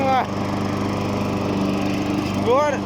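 A new self-propelled petrol lawn mower engine runs steadily with a loud, buzzing drone, while a person speaks briefly at the start and end.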